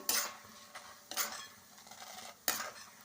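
Tempering spices fry in a pan with a soft sizzle, broken by three sharp metallic scrapes and clinks of a utensil against the pan, spaced about a second apart.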